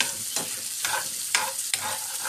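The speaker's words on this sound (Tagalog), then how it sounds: "Pag mainit na, lagyan na natin yung hotdog." A hotdog frying in a hot pan crackles with a steady sizzle, while rhythmic stirring or turning strokes scrape about every half second, close and without voices.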